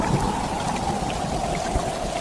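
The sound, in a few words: heavy rain and storm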